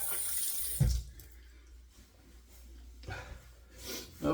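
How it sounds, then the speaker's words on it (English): Hands washed under a running tap at a sink after a shave, with water splashing and gurgling close by in uneven bursts, louder at the start and end. "let's wash our hands"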